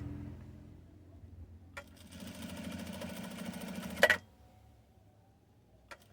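A sewing machine backstitches seams on a fabric duck sewing project, giving a steady, faint mechanical whir for about two seconds that stops abruptly, with a quiet click afterward.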